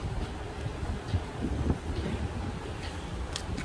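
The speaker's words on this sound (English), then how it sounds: "It's nice and windy here" Gusty wind buffets the microphone with a constant low rumble and rustle, fairly quiet and steady throughout.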